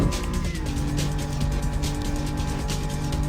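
Racing car engine in the PlayStation game Need for Speed: Road Challenge, droning steadily and loudly throughout on an international open-road tour, with a sustained tonal hum and no talking.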